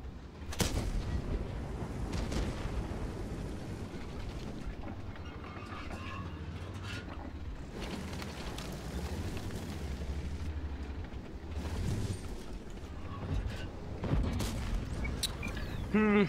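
A T110E5 tank in World of Tanks fires its gun in heavy booming shots, a few seconds apart, over a constant low rumble of tracks and engine, with sharper blasts near the start and end.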